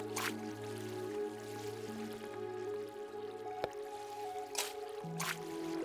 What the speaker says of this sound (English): You're going to see that the water flows onto this part here.